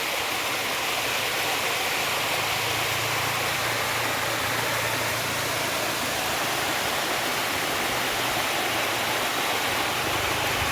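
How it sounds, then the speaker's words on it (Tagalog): Hinolugan waterfall in Guinobatan, Albay, a loud, steady roar of falling water that stays constant throughout, with no voices heard. "Falls."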